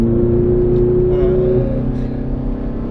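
A Ferrari sports car on the Mondello Park race track drones loudly from inside the cabin, its engine note holding steady and then easing.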